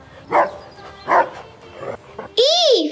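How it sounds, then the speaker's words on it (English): A cartoon-style dog barks once with a bright, bending yelp at the end of a children's alphabet song, loud and clear after sung voices. "D for dog"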